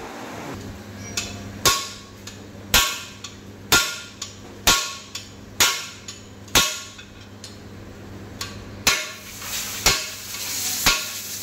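Hammer blows on bolts threaded into a Yamaha 149 cc motorcycle suspension bush to drive it out: about a dozen sharp metallic strikes at a steady rhythm, close and loud, each ringing briefly.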